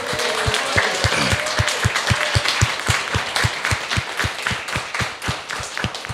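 Rhythmic, evenly spaced hand claps with a low thump on each beat, as a forum audience at an art and music event claps in unison to give thanks, faint talk underneath.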